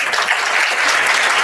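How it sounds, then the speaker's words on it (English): Loud, dense round of audience applause at an HR leadership summit felicitation ceremony in Pune, a steady roar of many hands clapping with no talk over it. "Can we have a big round of applause?"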